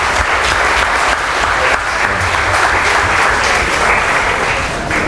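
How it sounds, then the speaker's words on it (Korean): Loud, dense clapping from a church convention crowd in Havana, Cuba, continuous and energetic throughout with no voices standing out. "박수로 하나님께 영광을."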